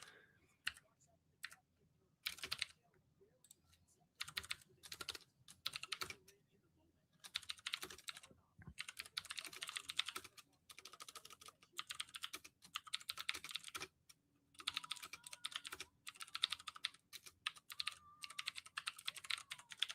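Rapid bursts of typing and clicking on a computer keyboard, close and crisp, come in irregular clusters with short pauses, with a quiet background hum underneath.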